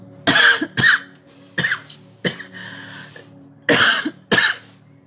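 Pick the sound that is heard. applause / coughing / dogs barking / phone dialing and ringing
coughing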